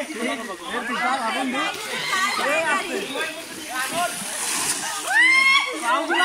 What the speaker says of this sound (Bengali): এই যে বড় মহিষটি যাচ্ছে নদী পার হয়ে।